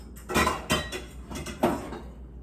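A bowl taken out in a small vintage kitchen, a few close clattering knocks of dishes and utensils shifting, no talking.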